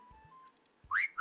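A person whistles a short steady tone, then after a pause gives two louder rising whistles, close and alone without talk.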